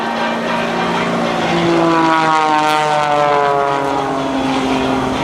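A Vortex Eagle aerobatic propeller airplane drones loudly and steadily at the 2008 AirPower Over Hampton Roads air show, its engine pitch sweeping as it climbs, rolls and maneuvers through the air.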